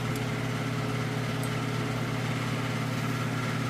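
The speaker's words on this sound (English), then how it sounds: "I do apologize for the fan" A steady mechanical hum with a low droning whir runs continuously and unchanging, like a fan close by, with no talking.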